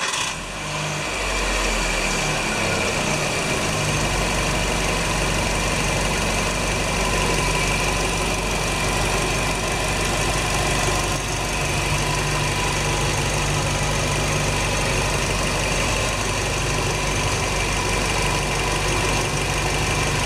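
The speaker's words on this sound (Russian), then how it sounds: "Работа двигателя на холостых оборотах стабильна." A 2007 Hyundai Getz with a 1.4-litre G4EE engine idling after start-up, a steady, even mechanical hum with a faint ticking texture, heard close and loud throughout without voices.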